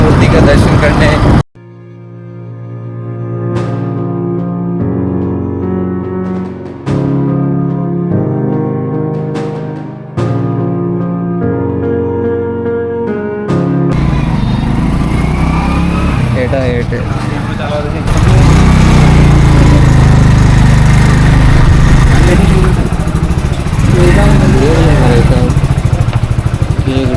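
A motorcycle rides along a highway, its engine droning steadily and loudly for the whole stretch. Music plays over the first half, and the second half is dominated by rushing wind and road noise.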